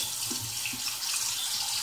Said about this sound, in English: washing my shears real quick